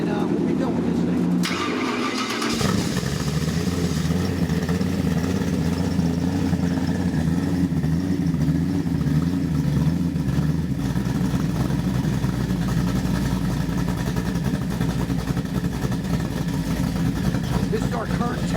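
A fuel-injected Ford 347 stroker crate engine, a 302-based 425 hp unit, cranks briefly and catches, then settles into a steady, loud idle with a slight lope, with someone talking over it.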